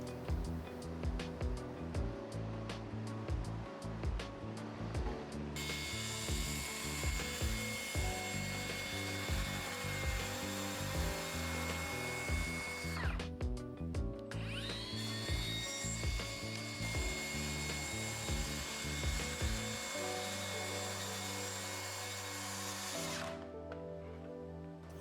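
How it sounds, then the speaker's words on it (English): Track saw cutting birch plywood, a loud sustained whining buzz through two long cuts separated by a short pause, with clicks and handling clatter before and after. "it's time to get out the track saw and cut this beautiful birch plywood down to size."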